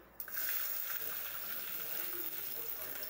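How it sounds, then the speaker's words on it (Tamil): Mustard seeds spluttering in hot oil with garlic while tomato rasam is cooked in a Tamil kitchen, giving a steady, fairly loud crackling hiss that starts abruptly and continues without a break. "நல்லா கடுகு பொரிய விட்டுடலாம்."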